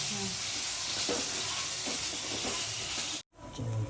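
Spice masala being mixed in a pan for sev usal or dabeli, a steady close sizzle with scraping stir strokes that cuts off abruptly near the end before a quieter hiss resumes.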